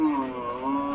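Cattle at a Qurbani livestock market in Manikganj, Bangladesh: a single close, loud, sustained low moo filling the moment, with no talk over it.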